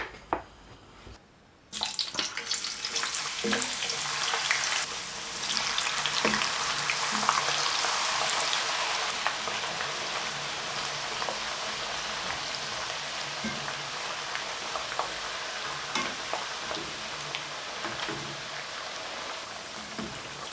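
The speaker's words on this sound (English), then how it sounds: "we are frying these first just to soften them up and then fry them again to crisp them" Loud, continuous sizzling and crackling of potato chips frying in hot oil on high heat, the first fry to soften them for British-style fish and chips, with scattered pops, starting after a brief quiet moment and holding steady.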